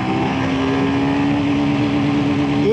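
Royal Enfield Himalayan 450 motorcycle accelerating hard in second gear, a loud, steady engine drone with a pitch that climbs gradually and then rises sharply at the end.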